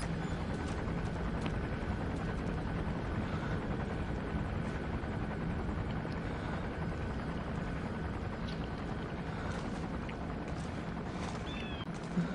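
Patrolling helicopter in Metal Gear Solid V, a steady, dense rotor drone holding at constant loudness throughout, with faint scattered ticks and no talking.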